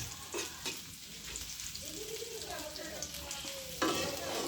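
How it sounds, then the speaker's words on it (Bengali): Onions sizzling in hot oil in a pan while a potato bhaji is being made, a steady close frying hiss with a few stirring clatters, no voices. "আমার পেঁয়াজটা তেলে দিয়েছি"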